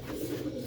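Special Sialkoti pigeons, a prized breed kept by a fancier, give a low soft cooing that runs steadily through the moment, close and fairly quiet, with a brief brighter burst of sound right at the end.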